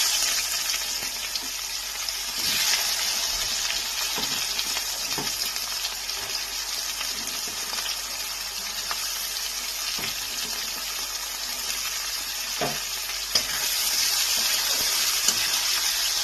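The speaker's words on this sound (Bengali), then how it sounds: "পেঁয়াজটাকে আমি একটু হালকা লাল করে ভেজে নিচ্ছি।" Chopped onions sizzle steadily in hot oil in a pan after the whole spices have crackled, a loud continuous frying hiss with occasional soft scrapes and clinks.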